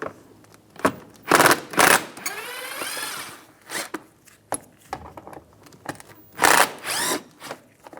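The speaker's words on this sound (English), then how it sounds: "Take these screws out." Phillips screwdriver backing screws out of a front mud flap on a 2010-2016 Cadillac SRX, with the wheel removed: short ratcheting bursts and scraping twists in irregular bursts, close and fairly loud, no talk.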